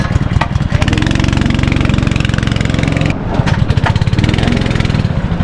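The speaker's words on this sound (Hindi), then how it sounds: "जनरेटर चालू हो चुका है।" A generator engine runs steadily at a go-kart track in an amusement park, with a loud, continuous mid-pitched drone and rhythmic chugging throughout.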